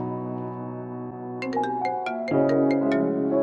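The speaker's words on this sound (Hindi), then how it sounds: "लो जी, आ गया मैडम को फोन" A mobile phone rings with an incoming call, a melodic ringtone of bright repeated notes building over a sustained tone, fairly close and clear with no talk over it.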